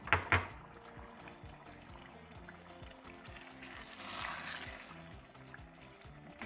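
Haitian chiktay, smoked herring with pepper flakes, fries quietly in a pan, a soft continuous sizzle that swells a little midway, after a couple of brief knocks at the start.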